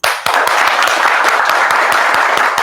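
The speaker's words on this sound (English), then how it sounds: "I want everybody to clap really loud" An audience claps loudly on request, a dense, sustained burst of many hands filling the room for a couple of seconds with no talking.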